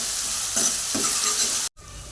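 Ginger, garlic and coconut sauté in a hot pan with a steady close sizzle, broken by a couple of scraping stirs and a brief dropout near the end.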